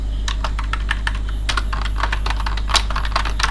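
Fingers tap out HTML code on a computer keyboard, a steady, close run of quick clicking keystrokes with a constant low hum underneath and nobody speaking.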